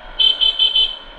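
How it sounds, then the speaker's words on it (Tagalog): A car horn sounds in four short, loud beeps in steady rhythm, close by, after the battery was replaced. "Kasi wala rin siyang busina kanina eh. Meron na oh."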